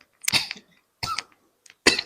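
Three separate coughs spaced about a second apart, close and fairly loud, with short silences between them.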